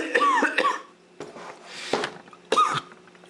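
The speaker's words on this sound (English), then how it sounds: "this cough is just gonna pop up out of nowhere" Someone nearby coughs in short rasping bursts, two quick coughs, then a pause and a few more harsh hacks, loud and close with no speech.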